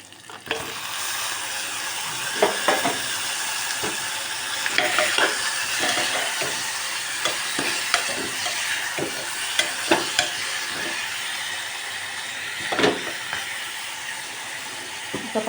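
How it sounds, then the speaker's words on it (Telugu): Mutton frying with spices in a pan, a loud steady sizzle broken by repeated sharp scrapes and knocks of a stirring spoon, no speech. "ఇప్పుడు మటన్ వేసుకోవాలండి"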